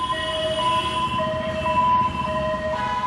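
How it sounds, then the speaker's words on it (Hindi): An ambulance siren sounds through busy traffic noise, a steady two-tone wail alternating evenly throughout, fairly close and loud over the rumble of vehicles. "ये एम्बुलेंस कहीं पहुंच नहीं रही है, बल्कि केवल भाग रही है, इस अस्पताल से उस अस्पताल।"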